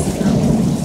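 Thunder rolls during a lightning storm, a steady, dense low rumble with a rain-like hiss across the whole short stretch, with no voices.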